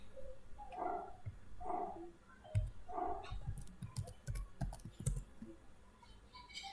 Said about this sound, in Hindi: अब देखिए मैं एक यहाँ पर एक प्रोग्राम टाइप कर रहा हूँ